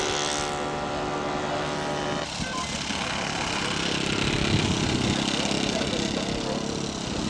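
Model Twin Otter aircraft engines drone steadily as the scale plane comes in for a full stop landing at an air show, a continuous propeller hum with wind and crowd noise and people talking nearby.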